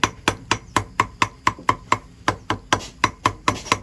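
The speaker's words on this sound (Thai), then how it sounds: "หั่นผักค่าครับ" A knife chops rapidly on a cutting board, about sixteen sharp, evenly spaced strikes in a brisk steady rhythm, close up with no talking.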